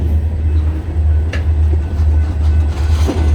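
Freight train hauling tanker cars on the DeQueen and Eastern railroad near Valiant, Oklahoma, a loud, steady low rumble close by with scattered clanks and squeals from the rolling cars.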